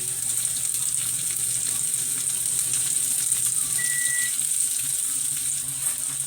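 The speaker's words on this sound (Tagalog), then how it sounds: "Isunod na naman natin ang hiniwang sibuyas. Igisa lang natin." Sliced onions sauté in a hot pan, producing a loud, continuous close-up sizzle that holds steady throughout with little variation.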